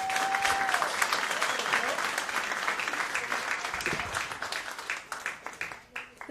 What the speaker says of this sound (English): I really appreciate the polite applause